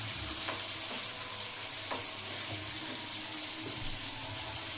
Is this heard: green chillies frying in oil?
yes